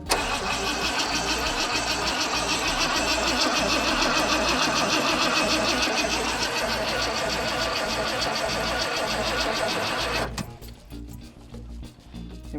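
An abandoned Ford Econoline van engine, being revived with starting fluid, cranks and catches, then runs roughly and loudly for about ten seconds before cutting out abruptly into quiet.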